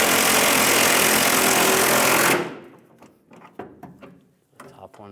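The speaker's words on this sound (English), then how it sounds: "Now using a 21mm socket and a 19mm wrench, I'm going to tighten these bolts down" A loud, continuous power-tool whir runs for about two seconds while bolts on a 2007-2013 Chevrolet Silverado leaf spring shackle are tightened with a 21mm socket and 19mm wrench, then gives way to scattered metallic clicks and clanks of tools.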